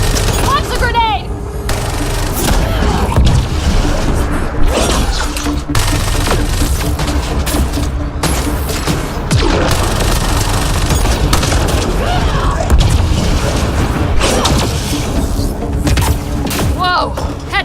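Combat in the video game Mass Effect Andromeda: a grenade launch followed by loud booming explosions and sustained gunfire volleys, dense and continuous throughout, with shouted voices among the blasts.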